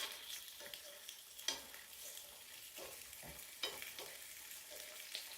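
Food fries in a pan on a wood stove for a traditional Appalachian lunch, a faint steady crackle with a few sharper pops and spatters, heard alone with no talking.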